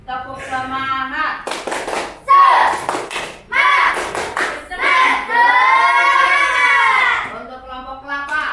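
Primary pupils in a sixth-grade classroom clap in quick rhythmic bursts while chanting loudly in unison, the claps and voices alternating in a lively pattern close to the listener.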